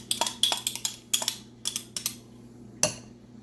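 A utensil scrapes and taps cheese spread out of a bowl in quick irregular strokes, close by, with short pauses between bursts.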